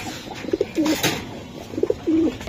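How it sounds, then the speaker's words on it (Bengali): A male club pigeon gives two short bouts of soft, throaty cooing, close and fairly quiet against a faint background hiss. "নর কবুতর"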